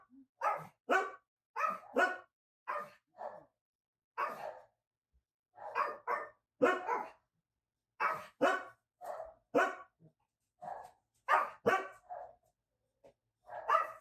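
Dogs bark repeatedly indoors in irregular bursts of sharp barks and yips, with short pauses between them and no talking.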